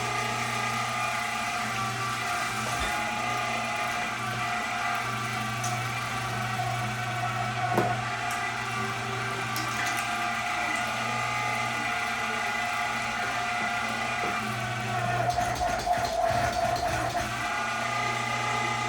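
An electric meat grinder works through beef and hard chunks of fat with a steady motor drone and whine. Faint rattles and clicks sit on top, and a rougher grinding burst comes near the end.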